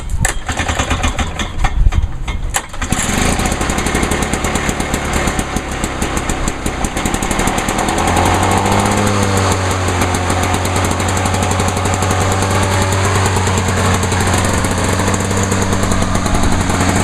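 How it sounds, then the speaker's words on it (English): An old lawnmower, more than 30 years old, runs loud and close with a steady rattling engine drone that holds without a break, settling into an even, throbbing hum partway through. "still running good for a lawnmower that is over 30 years old"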